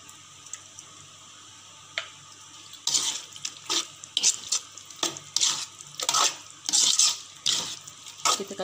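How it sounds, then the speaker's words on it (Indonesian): Cooking cream is stirred into pasta sauce in a pot, giving irregular scraping, sloshing strokes that come in bursts over a quiet background. "Kita kacau lebih kurang dalam 1 minit ya, bagi kuah ni mendidih ya."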